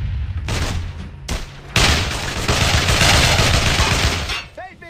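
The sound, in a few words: squad gunfire in video game Brothers in Arms: Hell's Highway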